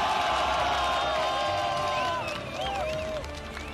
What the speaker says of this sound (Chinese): 我建议大家把这几次掌声呐喊声送给两位勇士